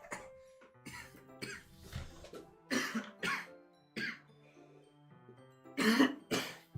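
A person coughs several times in short, separated bursts while streaming a Doki Doki Literature Club session, each cough loud and close, with near silence between.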